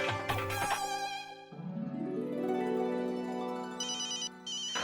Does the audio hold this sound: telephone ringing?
yes